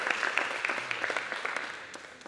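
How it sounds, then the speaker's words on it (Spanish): A congregation applauding the Lord during a church service, a brief burst of scattered clapping that fades slightly toward the end. "Good time to applaud."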